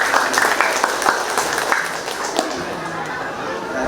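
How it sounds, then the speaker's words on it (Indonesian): An audience claps at an Islamic boarding school anniversary celebration, a burst of crowd applause mixed with chatter and voices, fading somewhat toward the end. "Tepuk tangan."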